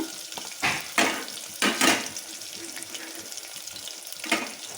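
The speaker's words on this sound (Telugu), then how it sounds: "నెక్స్ట్ ఆనియన్స్ యాడ్ చేసుకుంటున్నాను" Sliced onions drop into hot oil in a frying pan for bagara rice, raising a few loud broadband bursts of sizzle and stirring over a steady background hiss.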